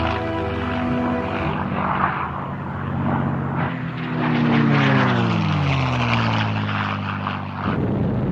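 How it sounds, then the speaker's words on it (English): A World War II propeller fighter fitted with a British Rolls-Royce Merlin engine drones loudly past, its deep harmonic engine note swelling and sliding downward in pitch as it flies by close overhead. "The US engine had been replaced by a British-made Rolls-Royce Merlin."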